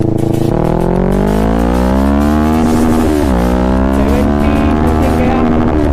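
Kawasaki Ninja 650 with a Mivv full-system exhaust revs loudly and close, its engine note rising and dipping with a brief drop around the middle, throaty and continuous throughout.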